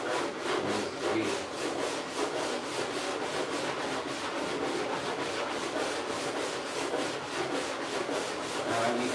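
Body filler on a pickup tailgate is sanded with 80 grit paper in fast, even back-and-forth strokes, a steady rhythmic rasp up close that runs without a break.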